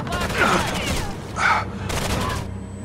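Machine gun fire in Rainbow Six Vegas 2 rattles out in three rapid bursts of about half a second each, loud and close, over a low rumbling background.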